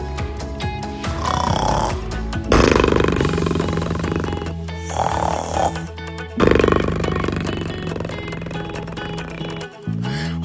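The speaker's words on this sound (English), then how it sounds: "You snore loud!" An animated sloth character snores loudly in long, rasping, roaring breaths, several drawn-out inhalations and exhalations repeating over about ten seconds, close and dominant with brief pauses between them.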